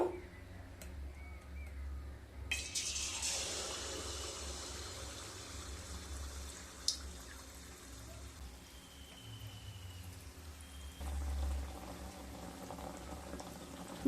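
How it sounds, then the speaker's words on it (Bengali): A ladle of poa pitha batter drops into hot white oil in a wok and sets off a loud, crackling sizzle. The frying bubbles steadily close by and swells again briefly near the end. "কড়াইতে সাদা তেল দিয়ে দিয়েছি তেলটা গরম হয়ে গেছে এবার এক হাতা ব্যাটার দিয়ে দেব"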